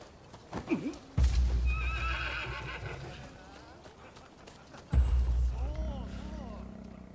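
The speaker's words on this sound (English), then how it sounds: "So now we can mount a horse." A horse whinnies twice in the samurai action game Rise of the Ronin, each loud, close neigh followed by clip-clopping hooves, with a voice talking over parts of it.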